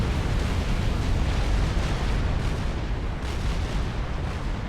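Tactical missiles exploding against a base in Supreme Commander, a dense continuous roar of overlapping blasts and rumbling impacts with no distinct pauses, loud and sustained throughout.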